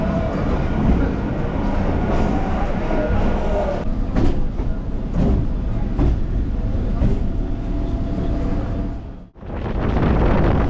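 A local train bound for Namkhana rumbles loudly and continuously from inside the carriage, with rhythmic clacks from the tracks and wind buffeting. Near the end the roar briefly dips before returning.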